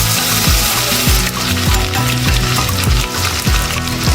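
Onions browning in a pan with whole garam masala spices and ginger-garlic paste give a continuous loud sizzle, with a rhythmic musical pattern running underneath.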